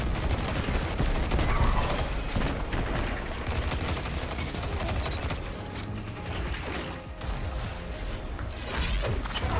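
Dense, continuous weapon fire from Destiny 2 as scorpion enemies are shot, with loud rapid bursts and mechanical clatter layered over a thick, busy game soundscape.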